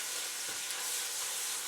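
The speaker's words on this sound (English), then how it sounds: "let's fry together until we can smell the aroma from the ginger and the garlic" Ginger and garlic fry in a hot pan with a steady, dense sizzle that holds evenly throughout, close and moderately loud with no voices.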